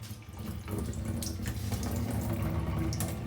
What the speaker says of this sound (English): strain off this water off of the ackee